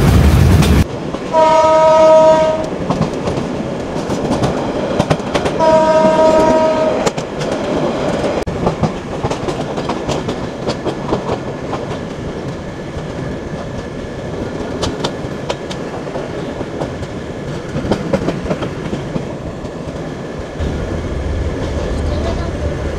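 A Saikat Express passenger train running on rails from Chattogram to Cox's Bazar rumbles steadily and loud, with two horn blasts near the start and a continuous clattering roll of wheels throughout.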